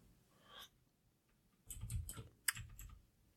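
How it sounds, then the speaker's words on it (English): A loud computer keyboard clatters in quick bursts of keystrokes, close and fairly faint overall, with a louder cluster of clicks and one sharp tap near the end. "Now my keyboard is going to make a lot of noise because it's loud."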